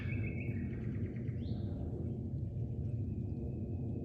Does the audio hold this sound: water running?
no